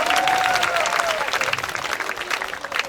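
Audience applause at a school extracurricular exhibition of martial arts, a dense steady clapping that fills the hall, loud and close, with a voice and tonal sound drifting briefly above it at the start.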